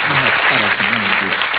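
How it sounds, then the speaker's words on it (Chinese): Steady applause from a studio audience at a singing contest, greeting a contestant; dense, loud, continuous clapping with a voice speaking over it throughout. "掌声先鼓励他"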